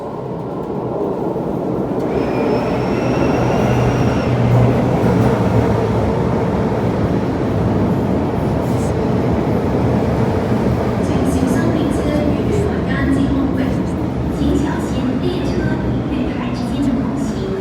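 An MTR metro train at Sheung Wan Station produces a steady loud rumble and whine while it runs through the platform, with a brief high tone early on and faint voices and clatter around it.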